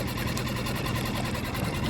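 A Suzuki DF6A 6hp outboard motor trolling slowly on a boat, a steady, even low engine drone with a soft pulsing rhythm, quiet and continuous.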